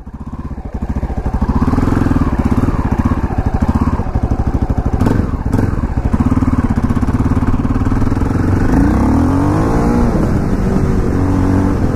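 A KTM LC4 640 single-cylinder motorcycle being ridden, its loud close engine thumping steadily and rising in pitch through several throttle surges and revs, with no talk over it.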